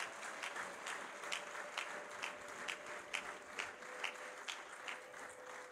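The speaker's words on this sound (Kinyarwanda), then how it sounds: "Ndagira ngo niba twese tukiri hano twongera Imana amashyi menshi tuyishimire" A church congregation claps together in steady, even applause that carries on without a break, heard from the middle of the crowd.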